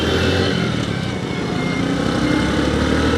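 A Bajaj Platina 100cc motorcycle pulls away in first gear, its small single-cylinder exhaust droning loud and close in a steady, buzzy, unbroken note.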